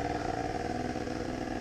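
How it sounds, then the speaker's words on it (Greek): Enduro motorcycles riding at an enduro event in Greece, with a continuous loud engine drone from several bikes running together. "50 μηχανάκια είναι εξαπλωμένα."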